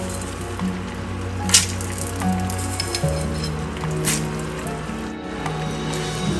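Edible gum, gond, fries in hot desi ghee, a steady close sizzle with crackles and pops, and occasional sharper spits over it.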